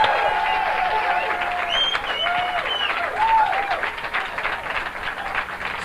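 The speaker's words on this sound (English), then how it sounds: "Let's have a nice round of applause." Sustained applause from a large comedy club crowd, steady and loud throughout, with a few whistles rising above the clapping.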